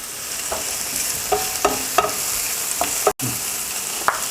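Steady sizzling of thinly chopped fresh garlic frying in a hot pan with wild asparagus, with occasional scraping and stirring knocks from a utensil.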